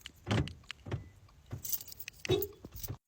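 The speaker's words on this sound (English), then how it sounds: "Now I lock my car so nobody can get me." A car is locked from inside with its keys: a few separate jangles and sharp clicks, close and fairly quiet, spaced out over a couple of seconds.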